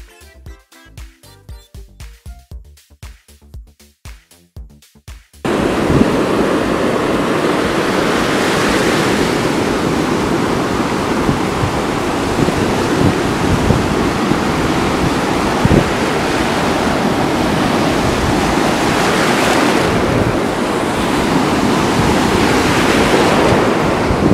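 Loud, continuous surf roars steadily as waves break on the shore, with swells rising every few seconds; a short burst of music precedes it.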